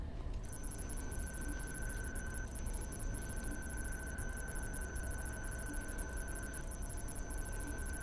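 A repeated electronic ringing chimes steadily in the video game Descent as a mine is set to detonate, under a constant noisy background, faint and continuous for several seconds.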